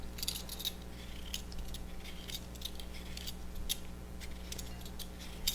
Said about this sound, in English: I'm just going to go ahead and peel these. And again, I'm using the Titan vegetable peeler